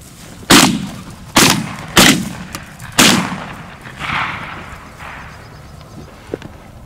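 Four loud shotgun blasts at close range, evenly spaced about a second apart, each with a sharp crack and short outdoor decay, fired at mallard greenheads during a northern Canada duck hunt, followed by fainter distant shots.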